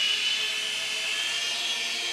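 A LiteHawk Duo RC helicopter hovers just above the ground at low throttle, giving off a steady, thin, high-pitched whine from its small rotors and motor that holds even and fairly faint throughout.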